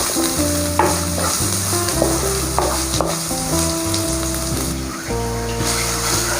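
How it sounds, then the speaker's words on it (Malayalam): Green chillies and spices sautéing in oil for a Kerala beef bone curry, a continuous crackling sizzle with occasional stirring scrapes, playing under soft background music. "ഇനി ഇതെല്ലാം കൂടി ഒന്ന് പച്ചമണക്ക് മാറുന്ന വരെ നന്നായിട്ടൊന്ന് വഴറ്റിയെടുക്കാം."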